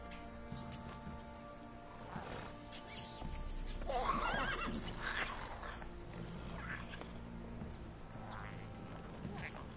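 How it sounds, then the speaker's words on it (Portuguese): A mare in The Witcher 3 gives a brief whinny amid soft in-game ambience, with hoof clip-clop and faint voices in the background. "o Geralt só anda com mares, cavalo fêmea"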